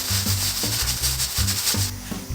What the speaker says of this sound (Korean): 동글동글하게 비비주시면 돼요.